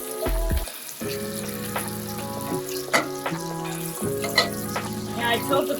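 Butter melting and foaming in a pan while cooking lobster pasta, a steady sizzle and crackle running throughout with recurring low tonal hum in the background, fairly close and continuous.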